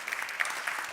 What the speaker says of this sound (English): 1 second applause also for Dylan Matthews.